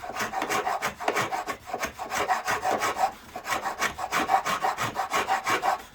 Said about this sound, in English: really, really rough sandpaper that you can use for shaping or whatever